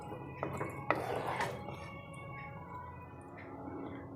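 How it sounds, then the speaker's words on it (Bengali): Cauliflower Gobi Manchurian is spooned from a pan into a serving bowl, giving a few sharp metallic clinks and scrapes early on, then a softer settling rustle that fades. "এখন আমি একটা পাত্রের মধ্যে তুলে নিচ্ছি।"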